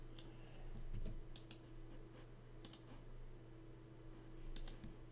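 Typing on a computer keyboard while entering data into an Excel spreadsheet: scattered clusters of light key clicks, close and fairly quiet over a steady low hum, with no talking.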